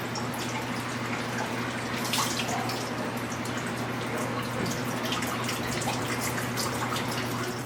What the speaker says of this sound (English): I can pour the water in here.